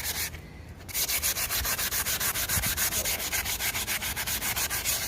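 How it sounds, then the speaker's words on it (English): Rough grit sandpaper scrubs rust off a small rusty garden tool in fast, even back-and-forth strokes, a close, loud rasp repeating steadily after a brief pause, no voices. "I'm going to use this rough"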